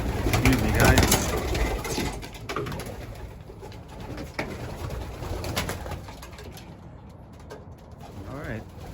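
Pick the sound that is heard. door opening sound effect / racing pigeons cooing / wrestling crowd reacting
racing pigeons cooing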